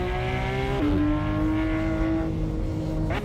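Race car engine in Assetto Corsa, a continuous loud exhaust drone held at high revs, with pitch steps at each gear change, heard up close with no talking.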